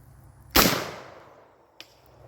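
A shotgun fires a 3.5-inch shell in one sharp, loud blast whose echo trails off over about a second, followed by a fainter click.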